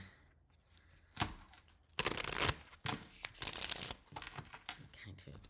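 A stiff, fairly new tarot card deck being shuffled up close, with crackling riffles, papery snaps and dense bursts of flicking cards in uneven spurts.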